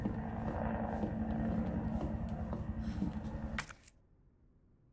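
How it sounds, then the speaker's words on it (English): Helicopter sound in the video game Resident Evil 2 Remake: a continuous low rotor rumble with rapid chopping texture, moderately loud, fading away after about four seconds into near silence. "I hear a helicopter or something."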